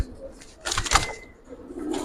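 Soft cooing from silver Giribaz pigeons, a couple of low murmuring calls with a brief noisy burst, fairly faint and close.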